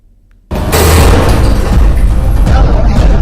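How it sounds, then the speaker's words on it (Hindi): A pager bomb explosion in Lebanon, heard in news footage: a sudden loud boom follows a quiet moment and gives way to sustained roaring, rumbling noise. "पेजर धमाकों से दहला लेबनान।"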